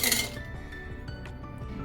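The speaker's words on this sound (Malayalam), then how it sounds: "ഐസ് ക്യൂബ്സ് ആണ് ഇടുന്നത്." Ice cubes dropped into carrot juice, a burst of clinking at the start followed by a few sparse glassy clinks, fairly quiet.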